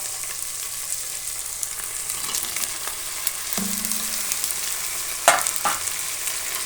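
Tomato stirred into vegetables sizzling in a pan for bread pulao, a constant close frying hiss with a few sharp clinks and scrapes of the spoon, no voices.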